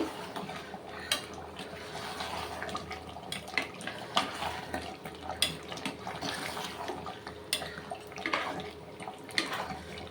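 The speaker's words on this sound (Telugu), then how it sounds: "కాబట్టి ఇప్పుడు నీళ్ళు కొంచెం పోసిన మిక్సీ జార్లో" Water is poured into a kitchen mixer jar while a country chicken kurma gravy is prepared, giving a steady splashing, gurgling pour with a few brighter splashes throughout, close and moderately loud.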